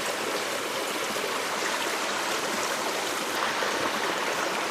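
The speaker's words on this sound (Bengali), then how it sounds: "আমার পিছনে কিন্তু সুন্দর ঝিরি" A stream flows steadily behind an outdoor spot, giving a continuous, fairly loud broadband rush of running water with no break across the whole stretch.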